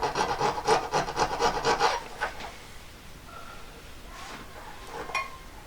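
A blade cuts a hexagon hole in wood with short, rhythmic rasping strokes at first. Then come slower, quieter scrapes and a few faint knocks.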